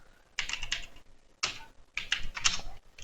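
Typing on a computer keyboard while coding in VBA: close, crisp bursts of rapid key clicks come in three clusters separated by short quiet gaps.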